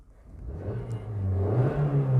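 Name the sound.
car engine revving as accelerator is pressed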